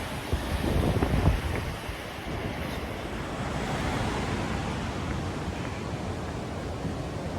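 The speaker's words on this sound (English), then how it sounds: "Have a bit of a breeze." Breeze blowing along a sunny coastal path near Coolum Beach, heard as a steady, fairly loud broadband rush of wind with buffeting on the microphone, stronger in the first couple of seconds, and no talking.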